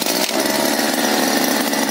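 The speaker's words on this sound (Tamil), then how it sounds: "52 சிசி மினி வீடரு." A 52cc mini weeder's small two-stroke engine runs loud and close, a steady high buzzing drone with no letup.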